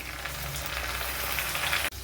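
Bay leaves, dried chillies and panch phoron fry in oil rendered from fish while making a Bengali spinach-stem curry, giving a steady close hiss and sizzle that cuts off briefly near the end, with no speech.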